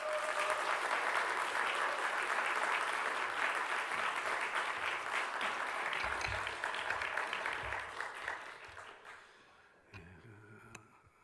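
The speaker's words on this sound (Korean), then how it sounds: "우리 나오실 때 크게 박수로 환영했으면 좋겠습니다." A church congregation at a Sunday afternoon service claps steadily to welcome the pastor to the pulpit; the fairly even applause thins and fades out near the end.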